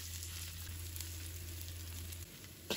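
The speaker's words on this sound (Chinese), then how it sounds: "把葱、 姜、蒜放入锅中，把它们炒出香味" Scallion, ginger and garlic stir-fry in oil in a wok, producing a soft, continuous sizzle under a low steady hum, with a faint clatter near the end.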